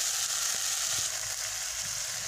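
Onions fry on a clay stove in a steady, bright sizzle that runs on without a break, with small pops and crackles in the oil and no voices.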